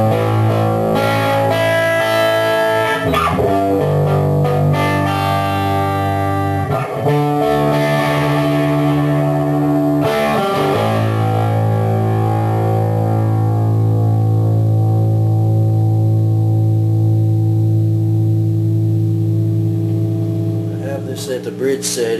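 Sustained distorted electric guitar notes on the bridge pickup setting ring out loud and thick through the amplifier, several chords held for seconds before fading into an even tone.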